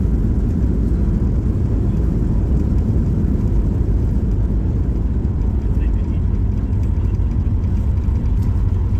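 Cabin interior of a Ryanair airliner landing on a flight into Bucharest, Romania: a steady, loud low engine and airflow roar fills the whole span, with faint murmurs of passengers underneath.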